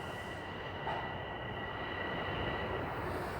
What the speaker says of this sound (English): I hear a train coming in. That should be the southbound train.